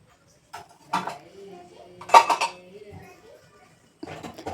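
Dishes and cutlery clink and clatter in a home kitchen being tidied up in the morning, a few scattered knocks between stretches of quiet, with a voice and brief talk nearby.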